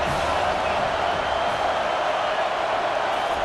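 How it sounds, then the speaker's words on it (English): Football stadium crowd at a Penn State versus Troy game, a dense, loud, continuous roar of cheering and noise from a large crowd, steady throughout with no break. "This crowd bringing the energy and noise early."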